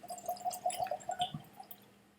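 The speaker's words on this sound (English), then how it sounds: "now we open this up and we pour it into a glass" Balcones 3-year-old Texas single malt whiskey is poured from a freshly opened bottle into a glass, a brief, close, quiet trickle and glug with a few drips that fade away, no talking.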